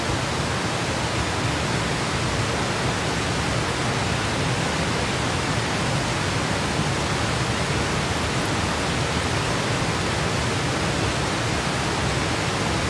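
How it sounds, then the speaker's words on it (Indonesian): River water flowing through a forest at night, a dense, constant rushing wash that stays steady and loud throughout with no voices. "Suara air sungai bukan hujan."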